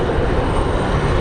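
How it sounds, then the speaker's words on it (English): C-130 aircraft engines drone steadily at Raleigh Durham airport on a windy day, a loud, dense, continuous roar with no talking. "Got that C-130"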